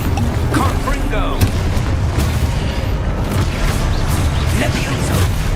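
Confringo fire-blast spells explode in Hogwarts Legacy gameplay: repeated booming bursts over loud, continuous battle noise, with a voice talking over them.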